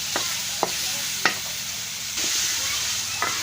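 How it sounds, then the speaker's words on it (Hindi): Potatoes fry in masala with a steady hiss, and a spoon knocks and scrapes the pan several times. No one talks. "आलूओं को भून लेंगे, मसाले में फ्राई करेंगे अच्छी तरह"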